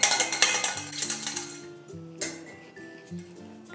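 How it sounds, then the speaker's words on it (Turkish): Rapid clattering and knocking of boiled eggs rattling inside a metal saucepan, shaken to crack their shells, a dense burst of shaking that slows into scattered clinks and taps. "Şimdi sos tenceresini elimde sıkıca tutup sallıyorum."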